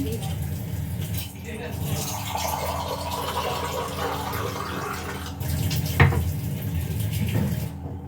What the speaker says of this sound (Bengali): এখানে আমি 1 কাপ মতো জল ঢেলে দিচ্ছি।